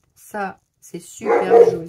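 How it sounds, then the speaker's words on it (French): A nearby dog gives a few short barks and yips toward a neighbour, overlapping with someone speaking French in a quiet indoor room. "c'était le chien qui a entendu le voisin"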